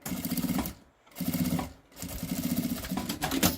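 A sewing machine stitches bias binding onto a children's fabric case, running in bursts of rapid mechanical chatter broken by two short pauses, close and fairly loud, with no talking.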